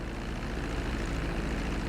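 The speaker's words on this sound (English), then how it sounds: "Now let's get the plane off the runway." An airplane taxis along a runway in GTA 5 on PS5, giving a steady, loud engine and propeller drone with a low rumble that holds level throughout, with no voices.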